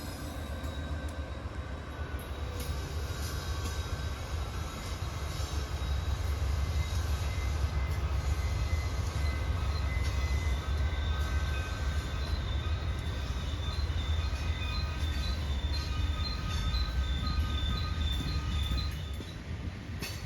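A long freight train hauled by Santa Fe locomotives rumbles steadily past at close range on Horseshoe Curve, deep low rumble with clanking wheels and a thin metallic squeal running through it.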